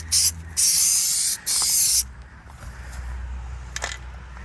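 A spray can of textured coating hisses in three close bursts, two long, sprayed from a distance onto a Toyota Tacoma running board for a pebbly finish; quieter rustling and a faint hiss follow.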